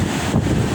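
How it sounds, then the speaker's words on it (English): Strong wind gusts buffet an Alps Mountaineer tent during a windstorm, a loud continuous roar with low rumbling flutter throughout the clip, no voices. "Wow, I think it's starting to really gust."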